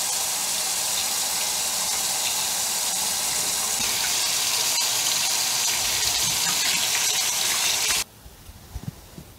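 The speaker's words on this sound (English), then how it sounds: "Let's head on over to the kitchen sink and rinse this off." Water runs from a kitchen sink tap as clear engraved acrylic is rinsed, a loud, steady close-up gushing hiss that lasts about eight seconds and then cuts off abruptly, leaving a few faint clinks.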